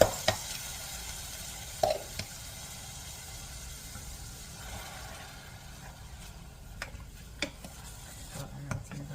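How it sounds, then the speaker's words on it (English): Food sautés quietly in a pan for Jamaican meatloaf, with a low steady sizzle and a few sharp clinks and scrapes of stirring. "I'm gonna saute it a little bit."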